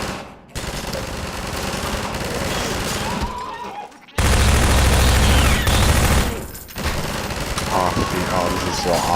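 Rapid automatic gunfire from a Half-Life 2 firefight against a zombie, loud sustained bursts of shots with brief pauses between volleys, game effects and a voice faintly mixed in.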